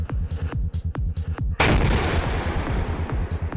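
A T-90 tank's enhanced 125mm gun fires one heavy, booming blast that rolls out into a long rumble, preceded by a fast train of rhythmic mechanical thumps, with no voices.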